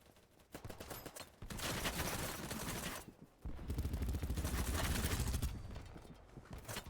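Sustained bursts of automatic gunfire in the shooter game Battlebit, loud and dense with brief gaps, as if a player is firing into an enemy spawn area nearby.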